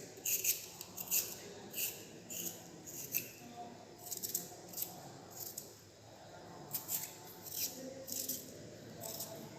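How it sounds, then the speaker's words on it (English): Potatoes are peeled by hand for potato salad, a series of light, crisp scraping strokes in an irregular rhythm, close and fairly soft, with no speech. "So first you are peel the potatoes."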